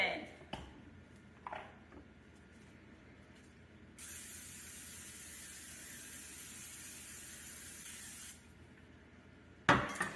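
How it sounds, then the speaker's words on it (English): A few quiet clicks and knocks, then cooking spray hisses steadily onto a bundt pan for about four seconds before a sharp clatter at the end. "I'm using a bundt pan for this. I'm gonna go ahead and spray it really good."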